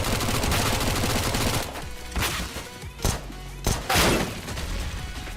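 MAC-10 submachine gun fire in CS:GO, a dense rapid burst for the first second and a half, then several shorter bursts and single cracks, loud and close.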